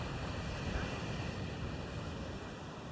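Sea waves and surf right beside seaside guest rooms on an overcast, rainy day, a steady broad wash of breaking water with wind noise, continuous and fairly loud throughout with no talk.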